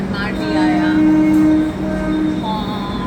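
A Mumbai Janta Express passenger train rolls along with a steady rumble and hum, briefly louder in the middle, while faint voices murmur inside the carriage.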